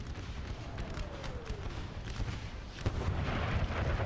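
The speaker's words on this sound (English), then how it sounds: "Heavy artillery fire is being put on the Irish Brigade, it looks like." Distant artillery fire rolls across a Napoleonic-era American Civil War battlefield in the Total War: Napoleon strategy game, a dense rumbling wash of booms with one sharper blast near the end.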